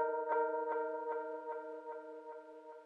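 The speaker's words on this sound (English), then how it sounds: "We're using the piano and keys Modena melody," A Modena melody played on a Scorch piano and keys instrument: a bright, evenly spaced repeating pluck-like note pattern with ringing harmonics, about seven regular hits, clean and alone.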